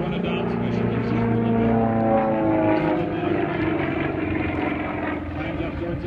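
A propeller airplane performing at an air show drones steadily overhead, a loud continuous engine tone with shifting pitch, while people talk over it.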